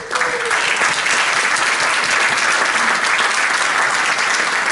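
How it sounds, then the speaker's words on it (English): A conference audience at a peace gathering in Istanbul breaks into loud, sustained applause, dense steady clapping that fills the hall and welcomes the Rotary International President onto the stage. "with a big round of applause"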